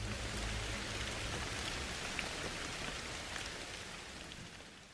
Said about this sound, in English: not just because the rain is loud